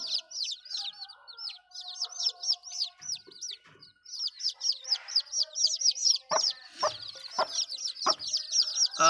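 A hen with newly hatched chicks, heard up close: a steady stream of high, rapid peeping from the chicks over the hen's low clucks, with a few soft knocks and scratching noises.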